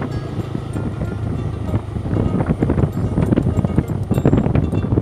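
Strong wind buffeting the microphone beside a rural canal in Manikganj, a loud steady rumble with gusty surges throughout.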